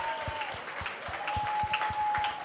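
Audience applause at a live political show in Des Moines, Iowa, a steady wash of clapping at moderate level with a faint tone running underneath, with no voices over it.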